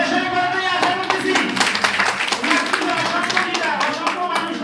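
An audience claps for a speaker at a gathering: steady, dense clapping runs throughout, with a voice and other sound mixed over it.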